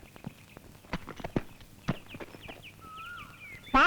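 Horse hooves clip-clop at a walking pace, a string of sharp, fairly close knocks with uneven rhythm, with faint bird chirps in the background.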